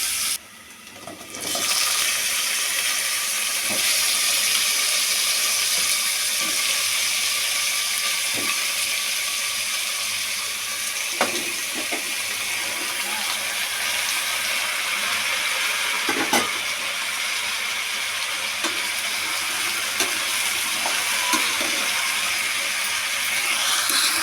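Onions frying in a pan for batani palya give off a steady, loud, broadband sizzle that runs unbroken from the second second onward, with occasional faint clicks and scrapes on top.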